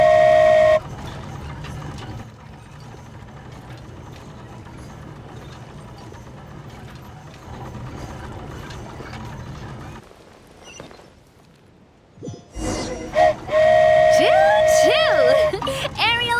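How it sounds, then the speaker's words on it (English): A flying train in Genshin Impact sounds a loud, sustained horn-like whistle and rumbles off, mechanical clatter and rising motion noise behind voices talking. "Choo-choo! Aerial Express moving out."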